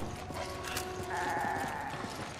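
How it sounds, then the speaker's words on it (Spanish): Zombie goat bleating in Resident Evil 5, a sustained nasal bleat in the middle of the moment over a busy game soundscape with clicking mechanical noises. "Es una cabra zombie."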